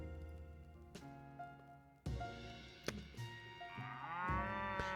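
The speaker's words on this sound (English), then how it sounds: "Hick, thank you for your daily moo." A cow's moo plays as a notification alert during a livestream, a long, loud lowing call rising and sustained over several seconds, clear and close with no talk.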